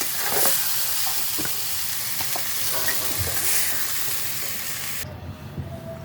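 Fenugreek greens and potatoes sizzle in a pan while a utensil stirs them with occasional scrapes. The frying hiss stays steady, then thins out near the end, and no one speaks.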